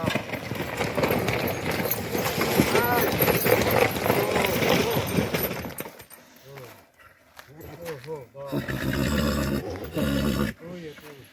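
A draft mare whinnies amid loud, busy noise of working hooves with studded shoes on gravel, then a quieter stretch follows with voices talking and a few more bursts of sound.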